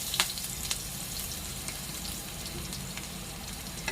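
Garlic paste added to a pan of hot oil for a Kathiyawadi peanut bhajiya curry sets off a continuous dense sizzle, punctuated by a few faint stirring clicks.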